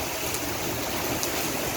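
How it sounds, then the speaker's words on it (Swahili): Heavy rain pours down in the Gulf as a dense, steady hiss of water with no pauses, heard alone over a brief moment. "It is raining."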